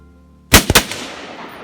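An unsuppressed Desert Tech MDR rifle fires outdoors: one sharp, loud crack followed by a quick second burst and a long, fading echo, with no talking.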